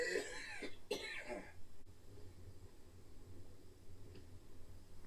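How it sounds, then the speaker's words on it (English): One person coughs twice in quick succession, close and fairly loud, then low room hiss and faint background hum carry on alone. "The cough."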